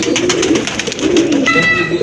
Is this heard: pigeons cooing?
yes